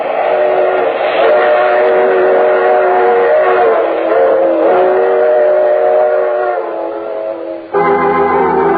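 A radio drama's train sound effect runs loud and steady, a rolling railway rumble carrying a long, sustained multi-tone train whistle that shifts abruptly near the end.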